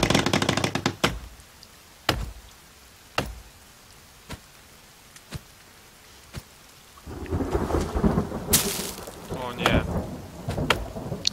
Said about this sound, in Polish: No właśnie, już padał deszcz.